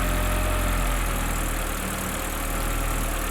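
A car engine idles steadily throughout during a 1987-era tune-up, with the distributor being turned to set ignition timing; a continuous low rumble with a broadband hum, close and even, with no talk.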